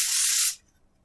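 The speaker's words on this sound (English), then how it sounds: "I'm going to use, this is contact spray, in German, of course" Contact cleaner spray hisses in one steady, close burst for about half a second while cleaning a Blue Yeti microphone, then cuts off to near silence.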